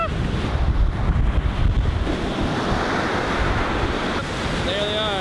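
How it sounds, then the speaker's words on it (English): Lake surf rumbles and washes steadily nearby, mixed with gusty wind buffeting the microphone. "Waves are kind of small, but they're coming in sets"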